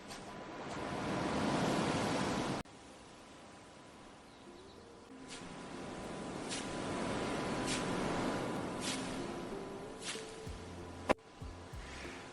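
Evening surf rolls onto a beach in a steady wash of waves, with breeze and wind buffeting the microphone and a few faint bird chirps, moderately quiet and without voices.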